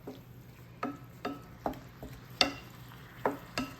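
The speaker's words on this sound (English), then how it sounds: "Mix it real good." Cheesy sausage dip being stirred in a pan, with a series of distinct scraping strokes at an irregular pace over a faint sizzle, close and fairly quiet.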